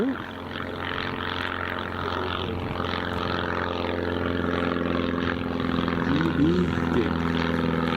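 Small general aviation propeller plane departing Glasgow Airport, a steady droning engine hum with a rising buzz, distant crowd voices under it.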